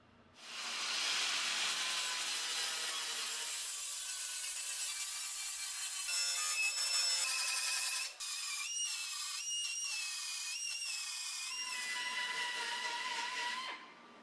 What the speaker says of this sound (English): I can now dress the welds.